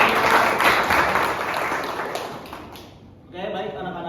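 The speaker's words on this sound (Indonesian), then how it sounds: "Tepuk tangan sekali lagi untuk kita semua." Classroom clapping from pupils, a short burst of applause that thins out before a teacher begins speaking.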